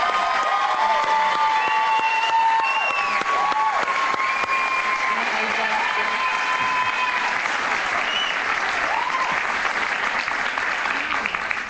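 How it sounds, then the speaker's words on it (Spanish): A studio audience at a Spanish-language TV talk show applauds a guest, sustained loud clapping with some cheering and whistles running steadily throughout. "Un aplauso para ella, por favor."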